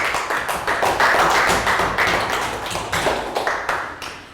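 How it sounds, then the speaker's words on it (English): A small classroom group claps for a student after he answers a math problem, producing a quick run of close, sharp hand claps with an uneven rhythm and no talking. "Round of applause for Pak Bung."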